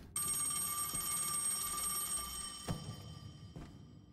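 A phone rings inside the video game Dishwashing Simulator, a steady electronic bell tone with a bright high pitch that holds for about three seconds, then two short clicks follow over a low background hum.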